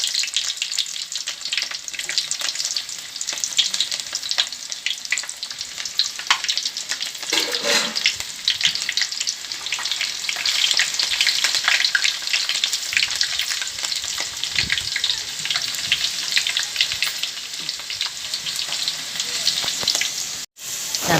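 Onion and curry leaves frying in hot oil for a fish curry, a loud steady sizzle with crackling and occasional stirring, close and continuous throughout with only faint background voice.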